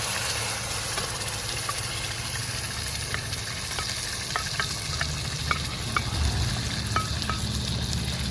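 Butter and tomato purée sizzle steadily in a frying pan while cooking paneer butter masala, a constant close frying hiss with scattered light pops and crackles and occasional stirring clinks.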